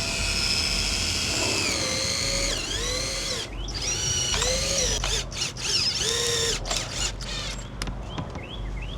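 A power drill driving the last screws to secure a window in a house: loud, close whirring bursts that rise and fall in pitch, with brief stops between runs and no talk.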